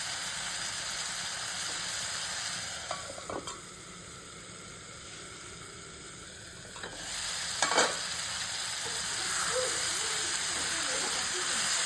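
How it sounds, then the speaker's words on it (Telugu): Ridge gourd and coriander stir-fried in a pan for chutney: a steady, close sizzle and hiss runs throughout, broken by a few sharp scrapes and clinks of a spatula stirring the pieces. "మధ్య మధ్యలో కలుపుకుంటూ వేయించుకోండి, లేదంటే అవి కింద అడుగంటుతాయి."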